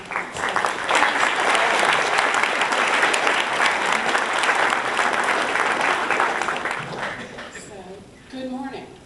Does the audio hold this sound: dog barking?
no